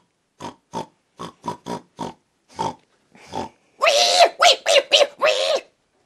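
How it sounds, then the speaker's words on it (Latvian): Pig grunts and snorts, a run of short separate bursts followed by longer, louder squealing grunts near the end, close and with no talking. "man liekas, ka tā ir cūka"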